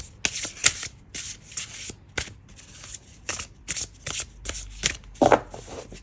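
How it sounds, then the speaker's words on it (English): A thick oracle card deck being shuffled by hand, with repeated crisp riffling and flapping bursts in an uneven rhythm, close and fairly loud, no talking. "this is really thick deck, so bear with me as I shuffle this"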